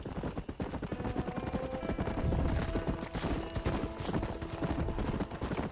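Rapid, rhythmic hoofbeats of a galloping horse in the video game Red Dead Redemption, loud and close, with a brief whinny and some background music.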